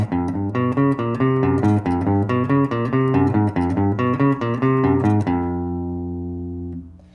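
Guitar spider exercise played quickly, a steady stream of rapid picked notes stepping through chromatic finger patterns, ringing out on a final sustained note; loud, close and alone with no voices.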